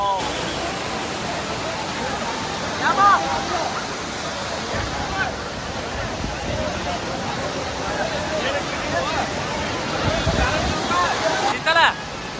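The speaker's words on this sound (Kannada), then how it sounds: "ಇದೆ ನೋಡಿ ಅಂಬೋಲಿ ವಾಟರ್ ಫಾಲ್ಸ್." Amboli Waterfalls in the monsoon roar as a steady broadband wash of rushing water, continuous and loud, with people talking faintly over it.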